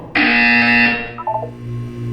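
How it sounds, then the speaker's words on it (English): A loud, harsh electronic buzzer from the video game Portal 2 sounds once for about a second, then fades into a low hum with a few faint beeps, no voices. "You will hear a buzzer. When you hear the buzzer, look down at the floor."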